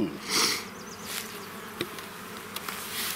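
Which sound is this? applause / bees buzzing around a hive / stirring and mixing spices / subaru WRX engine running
bees buzzing around a hive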